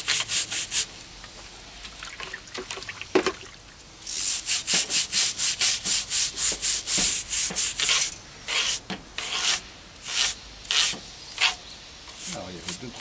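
A brush scrubs grime off a BMW K1200/K1300 motorcycle radiator in rapid, rhythmic close-up strokes, scratchy bursts coming in quick runs with short pauses between.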